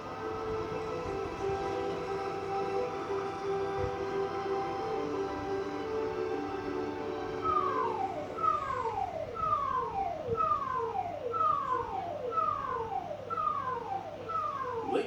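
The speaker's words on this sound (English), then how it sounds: "the siren you hear is the important message signal" A warning siren holds a steady tone, then begins rising and falling in repeated sweeps, loud and continuous.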